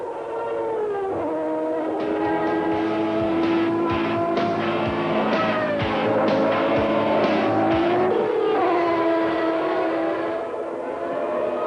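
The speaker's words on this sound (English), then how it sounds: "Martin Brundle is having a big battle with J.J. Leto's Sauber for 9th position" Formula One cars from the 1993 San Marino Grand Prix race past in a continuous loud engine roar, with rising and falling pitch sweeps as cars pass close by, no voices heard.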